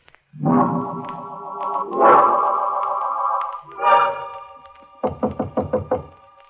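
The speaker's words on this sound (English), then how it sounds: "He knocks on my door." Knocking on a door in a 1947 radio suspense drama, following tonal music and stingers; a quick run of about five sharp, evenly spaced raps rings out alone at close range.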